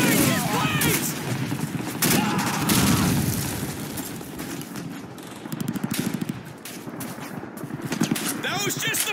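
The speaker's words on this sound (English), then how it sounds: "German grenade! Just wait!" A German grenade blast and rattling gunfire from a World War II video game, set in December 1944, with repeated bursts of shots and booms under shouting voices.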